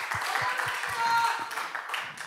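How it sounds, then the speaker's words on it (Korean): A small group in a church gathering gives congratulatory applause, scattered clapping of moderate loudness with a few distinct thumps, while a voice talks over it. "축하의 박수 한번 보내줍시다"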